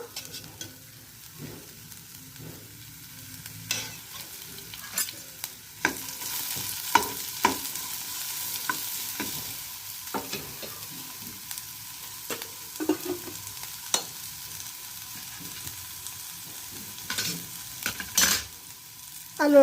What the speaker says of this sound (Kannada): ಚಕ್ಕೆ, ಮೆಣಸಿನ್ಕಾಯಿಯನ್ನು ನಾವು ಹಾಕ್ಕೊಂಡಿದ್ದೀವಿ, ಫ್ರೈ ಮಾಡ್ತಾಯಿದ್ದೀವಿ